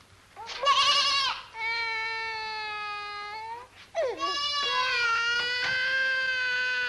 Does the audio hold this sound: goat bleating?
yes